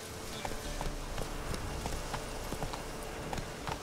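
Horse hooves clip-clop steadily in The Witcher 3 as Roach trots over open ground, a quick even rhythm of muffled thuds at moderate loudness with no talk.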